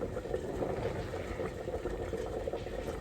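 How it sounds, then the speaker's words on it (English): Gravy for smothered fried chicken in a pot at a steady rolling boil, with continuous bubbling and gurgling held at a close, moderate level for the whole stretch. "Came up to a boil, so I've turned it down"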